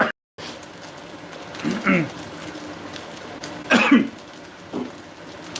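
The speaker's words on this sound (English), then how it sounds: "Excuse me as I cough." Coughing bursts from a home cook who choked slightly while tasting fried rice, two or three rough, throaty coughs spaced a couple of seconds apart, close up and moderately loud with quiet room noise between.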